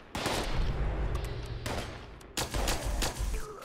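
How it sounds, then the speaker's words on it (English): Pistol fire in Fallout 76 rings out as a loud rapid string of sharp cracks, then a pause, then another burst of several shots with a brief ringing tail. "this pistol is actually doing a really good job on taking out even"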